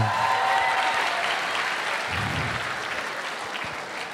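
A university audience at a stand-up comedy show claps steadily for about four seconds, dense applause filling the hall and slowly tapering off.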